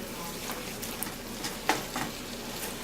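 Spaghetti being mixed with pesto, tomatoes, celery, spinach and mushroom, giving soft stirring and scraping sounds with a faint sizzle beneath and one sharper clink near the middle, fairly quiet and without talk.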